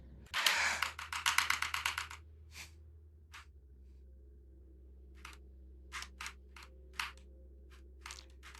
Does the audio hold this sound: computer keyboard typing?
yes